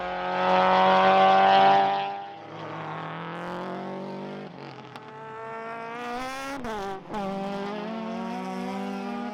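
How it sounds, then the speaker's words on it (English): Race car engines at a production car race at Baskerville, including a Subaru Impreza, roar loudly and rise through the gears with sharp pitch shifts between changes, heard close and continuous. "Clark used the Impreza's all-wheel drive off the line to his advantage and blasted into the lead"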